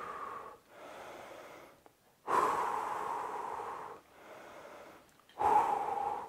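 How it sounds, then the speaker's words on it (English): Heavy breathing during a home fat-loss workout: three long, loud, rasping breaths with short pauses between them, close to the microphone, with no talking. "keep breathing."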